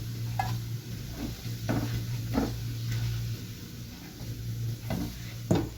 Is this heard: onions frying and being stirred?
yes